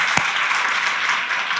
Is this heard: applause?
yes